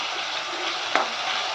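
Tomato fries in a pan with a soft steady sizzle and a single brief tap of a utensil, close but quiet, with no voices.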